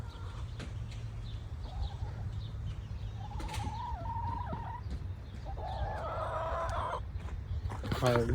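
Chickens at a Tractor Supply Sentinel coop cluck and call in short repeated bursts over a steady outdoor background, with a few louder crowing-like calls, moderately close.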